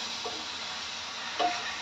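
Onions cook in a pan with a steady, even sizzle, broken by a couple of soft stirring scrapes near the middle and end, with no voices over it.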